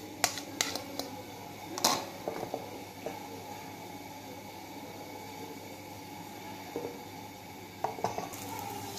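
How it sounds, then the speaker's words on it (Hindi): Eggs frying in a little oil in a frying pan, a soft sizzle underneath scattered clinks and knocks of utensils against the pan, fairly quiet and close. "इसमें हम थोड़ा सा तेल डालेंगे और अंडों को हम फ्राई करेंगे"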